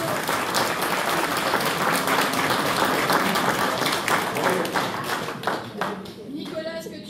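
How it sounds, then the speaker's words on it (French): An audience at a town New Year's wishes ceremony applauds, a loud sustained round of clapping that thins toward the end, leaving a few scattered claps and a faint voice. "je pense qu'on peut l'applaudir."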